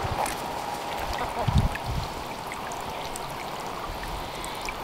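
Water trickling into a stock tank garden pond, a soft continuous gurgle and splash running steadily throughout, with a brief louder slosh near the middle and faint outdoor background.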